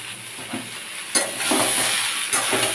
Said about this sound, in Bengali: উত্তর আলু মোটামুটি ভাজা হয়ে গেছে এবার আমি ঝিঙেটা দিয়ে দেবো